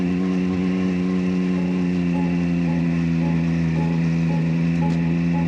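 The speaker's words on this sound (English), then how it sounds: "You can hear even my motorbike with 110 horsepower sounding fairly strained in the low gears, muscling its way up the mountainside." A 110-horsepower Triumph Street Triple motorcycle labours up a steep mountain road in low gear, its engine droning steadily and loudly with an unchanging strained tone throughout, and no voices heard.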